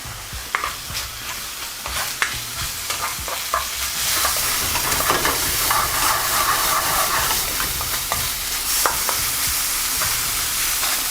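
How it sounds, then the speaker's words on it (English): Onions sauté in oil with ginger garlic paste, a continuous sizzle and hiss with occasional stirring scrapes, close and steady. "You just want to sweat those onions"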